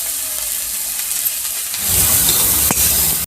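Chillies sizzling in hot oil in a pan, a soft sizzle that swells into a louder, denser frying hiss partway through, close and continuous with no talk.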